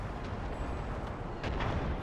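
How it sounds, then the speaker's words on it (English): Howitzer artillery fire among houses in an Austro-Prussian War 1866 battle game, a low continuous rumble of distant booms with a couple of louder thuds toward the end. "Howitzers doing really good work here in among the houses."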